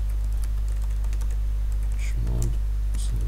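Computer keyboard typing in quick, scattered clicks over a loud constant low electrical hum, with someone speaking briefly partway through.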